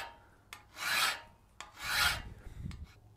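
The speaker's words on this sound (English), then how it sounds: "So I'm going to continue filing on this a little bit more" A hand file rasps across a forged steel blacksmith's round veining butcher tool in two long, smooth strokes and a shorter third, close-up with quiet gaps between.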